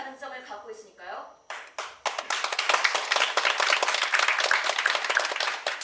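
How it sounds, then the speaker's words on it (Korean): Theater audience at a Korean stage play bursts into sustained, dense applause after a brief spoken introduction, with the crowd clapping loudly and steadily to the end. "난 박수를 칠 겁니다."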